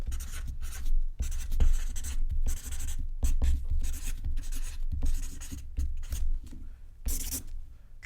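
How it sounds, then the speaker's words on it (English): A pen writes steadily on a paper travel itinerary, a close, soft scratching of strokes with brief pauses, in a whispered travel-agent role play. "I'm going to write this on top of your itinerary."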